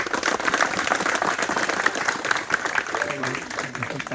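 A crowd claps along at a GEL church inauguration ceremony in Talbahali, the quick uneven hand claps continuing steadily while voices chatter and call out over them.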